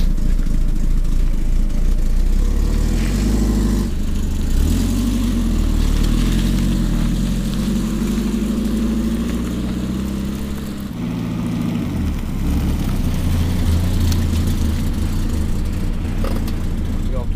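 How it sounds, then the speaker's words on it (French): A stock Peugeot 405 Mi16 engine runs steadily at idle, loud and close, with a brief dip and change in tone midway before settling again. "Bruit d'origine de la 405 Mi-16."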